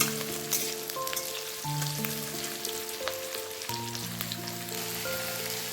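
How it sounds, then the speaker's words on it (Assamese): Onions frying in oil with ginger, garlic and a dried red chili for an Assamese paneer dish, giving a steady, close crackling sizzle throughout, with sustained melodic tones running underneath and no talk. "পিঁয়াজখিনি অকণমান ৰঙচুৱা হোৱালৈকে ভাজি ল'ম।"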